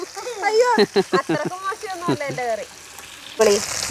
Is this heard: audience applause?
no